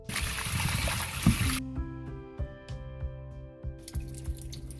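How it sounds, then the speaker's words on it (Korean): Seaweed stems being rinsed and squeezed by hand, a wet rushing burst of running water for the first second and a half, then soft squishing and dripping sounds close by. "시간이 지나 비린맛이 덜해진 미역줄기를 헹구고 물기를 짜주세요"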